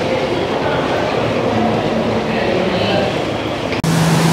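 A train at a Kenyan railway station gives off a steady, loud rumble and hiss that fills the scene from close by, ending in a brief pause and then a sustained tone.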